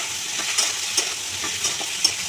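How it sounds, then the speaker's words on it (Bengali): Eggplant and potatoes frying in a pan are stirred with steady hissing, while soft utensil scrapes land about every half second. "একটু নাড়াচাড়া করবো।"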